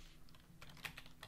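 Quiet, rapid keystrokes on a computer keyboard, a faint run of soft clicks with a slightly stronger tap near the middle, recorded close and alone.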